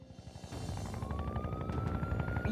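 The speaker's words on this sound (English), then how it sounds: "You could hear the helicopters outside." Helicopter rotors thump steadily overhead, a continuous low chopping drone that grows slightly louder, with a faint rising engine whine.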